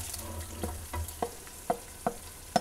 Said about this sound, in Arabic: شفتوه البصل في الزيت كيفاش